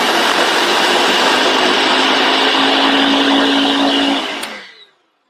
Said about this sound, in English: Just run your spatula around the blade and then give it a pulse again.